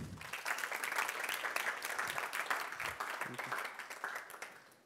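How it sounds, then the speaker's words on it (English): An audience applauds a speaker at a university faculty talk, a dense sustained round of clapping that swells near the start and fades out toward the end. "Please give a round of applause for Alessandro Taberna."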